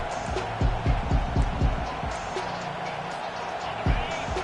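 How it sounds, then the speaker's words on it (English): Home crowd roaring in the College Football 25 video game during a third down for Georgia against Florida, a broad stadium din with rhythmic thumping stomps, steady and moderately loud, with a commentator talking over it. "Here comes this home crowd as the defense tries to get off the field on 3rd down"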